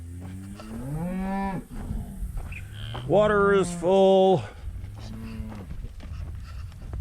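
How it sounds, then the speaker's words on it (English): Cattle moo several times on a farm as they are let into a pen, loud, drawn-out calls in bursts with a clear pause between them, and a person speaks briefly amid the lowing. "Let the cattle go into here now."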